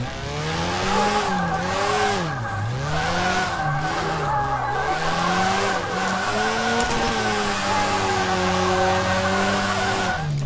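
A car drifting in the Drift21 video game on the Minami track, engine droning and revving with swooping pitch changes under steady, sustained tire squeal through the slides, loud and continuous.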